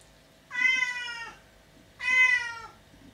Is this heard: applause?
no